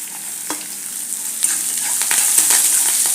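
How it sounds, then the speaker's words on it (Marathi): Onion, green chili and curry leaves hit hot oil in a pan with dal, a bright steady sizzle punctuated by stirring clatter, close and growing slightly louder. "आता याच्यात घालायचा आहे कांदा आणि मिरची, कढीपत्ता।"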